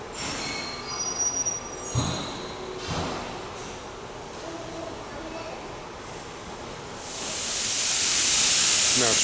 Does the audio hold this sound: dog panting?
no